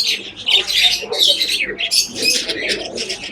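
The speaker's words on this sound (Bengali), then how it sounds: "এখন হাড়ির ভিতরে মাথা উঁচু করে ডাকছে মাকে খাবার দেওয়ার জন্য।" A pigeon chick inside a clay pot stretches its head up and calls to its mother for food, giving a run of high, rasping squeaks and chirps that repeat steadily, close by, with faint talk underneath.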